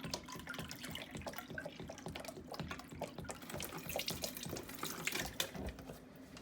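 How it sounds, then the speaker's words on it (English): Tap water runs steadily from a kitchen sink faucet into a measuring cup, a continuous splashing rush with small drips, close and moderately loud, alone with no talk. "Now you might be using the tap. It's the same idea. Fill up your measuring cup."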